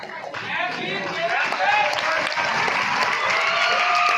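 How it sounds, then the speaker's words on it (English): Dense crowd clapping at a school annual day, building slightly and holding steady for a few seconds, with an amplified voice and some chatter over it. "Clapping should not stop"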